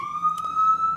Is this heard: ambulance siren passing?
yes